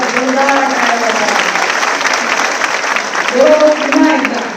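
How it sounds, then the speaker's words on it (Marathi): A crowd at a political rally applauds with dense, sustained clapping that swells near the end. Voices cheer and call out over it. "जोरदार टाळ्या"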